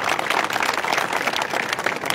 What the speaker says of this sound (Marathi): जरा टाळ्या जोरात वाजवा।